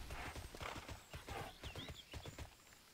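Horse hooves clip-clop in quick repeated beats in the online role-playing game Tera Online, with a short neigh rising near the middle; the sounds are close and quiet overall, and no one talks over them.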